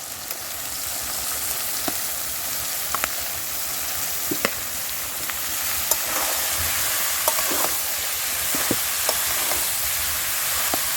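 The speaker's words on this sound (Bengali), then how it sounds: "অল্প অল্প করে লাউ দিয়ে তারপরে এরকমভাবে নাড়াচাড়া করে আবার অল্প করে লাউ দিতে হবে" Bottle gourd fries in a pan with crab, a steady loud sizzle throughout, broken by frequent scrapes and taps of a spatula as it is stirred, close and without talk.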